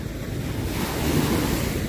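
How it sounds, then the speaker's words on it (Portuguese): Ocean waves surge and break steadily onto a beach at Ubatuba, a continuous close wash of surf with wind buffeting the microphone and no voices. "São as ondas que quebram na praia."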